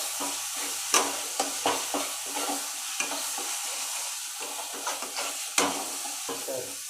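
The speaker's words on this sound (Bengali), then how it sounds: "যে মশলাটা আমার ভাজা ভাজা হয়ে গেছে, মশলা থেকে তেল ছেড়ে দিয়েছে।" Spice paste of ground poppy seed and charmagaz frying in oil for a doi katla fish curry, stirred with a spoon that scrapes and taps the pan in irregular strokes over a steady soft sizzle, close and alone.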